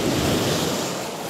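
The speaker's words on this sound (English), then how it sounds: "That's a good size wave." Big sea waves surging at Staithes on the UK coast, a loud continuous roar of crashing surf with heavy wind buffeting the microphone, close and unbroken.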